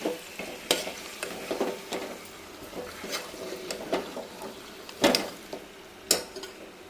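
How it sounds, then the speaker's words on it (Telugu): A mutton mixture is stirred in a cooker: repeated scraping and clinking of a spoon against metal with faint sizzling underneath, a few louder knocks standing out near the end. "వేసి ఒకసారి ఇలా మొత్తం బాగా కలుపుకోవాలి"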